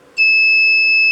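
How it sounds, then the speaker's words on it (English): An ESP32-driven buzzer sounds one steady, loud electronic tone that starts abruptly and holds unbroken for about a second, alone with no voices. "I put the buzzer back to 1 second."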